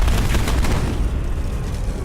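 Loud explosion in the video game Deus Ex: Human Revolution, a heavy, broad rumbling blast that fades slowly as it decays.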